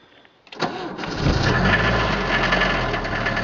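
A car that had sat untouched for about two weeks cranks briefly, then its engine catches and settles into a steady, fairly loud idle, heard close up.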